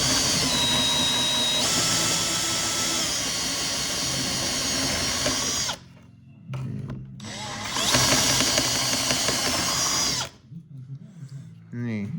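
A power drill spins a 29 mm hole saw through double-layered plastic on a CForce 850cc/1000cc ATV, whining loud and steady in two long bursts separated by a short pause, with faint handling noises in the gaps.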